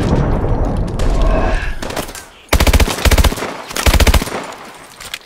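Sniper rifle fire in the Call of Duty: Advanced Warfare video game, loud sharp shots and rapid bursts of gunfire following a stretch of noisy game ambience, close and dominant.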